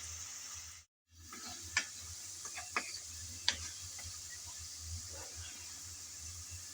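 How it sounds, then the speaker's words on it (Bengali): Potato and carrot pieces frying in oil while being stirred for a fiddlehead fern greens recipe; a soft steady sizzle with scattered sharp clicks and scrapes of the stirring utensil, close and quiet, with one brief dropout. "কিছুক্ষণ সময় ধরে নেড়ে চেড়ে আমি ভালোভাবে আলু আর গাজর ভেজে নিলাম।"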